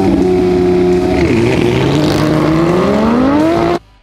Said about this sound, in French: C'est l'heure de la course numéro 2.